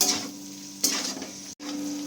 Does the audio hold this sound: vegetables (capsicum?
yes